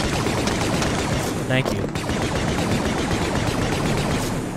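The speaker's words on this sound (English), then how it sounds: "Are you immune to my blaster bolts?" Rapid blaster fire in the Star Wars horror game Deathtroopers, dense continuous shooting that stays loud throughout, with a short break in the middle and a voice speaking briefly.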